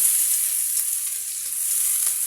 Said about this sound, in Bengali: পেঁয়াজগুলো দিয়ে আমি এখন ভালো করে নেড়ে নেব